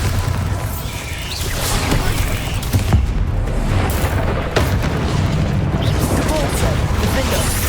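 Bombarda spell explosions in the video game Hogwarts Legacy, a dense run of loud booms and blasts going off under a steady din of combat effects, with brief voice sounds mixed in.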